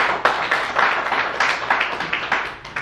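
Applause for two former presidents of a New York Korean sports association at a torch relay send-off ceremony for a Korean American sports festival. A crowd claps steadily and briskly throughout.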